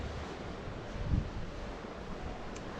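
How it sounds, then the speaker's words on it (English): Sea waves at Camp de Mar in Mallorca on a not-quite-calm March day, a soft continuous wash of surf with wind rumble on the microphone and one brief swell of louder churning midway. "I'd rather have the sound of the waves than the sound of the music."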